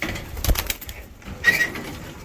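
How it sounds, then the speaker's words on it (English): Pigeons in a loft coo softly amid rustling and light movement, with a few low murmuring calls and soft shuffling close by. "Oh, another Hop Auctions bird, one of Frank's"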